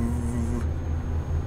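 A MAN TGX truck engine in Euro Truck Simulator 2 runs at high revs with a vibrating, low droning hum that holds steady at moderate loudness with no talking over it.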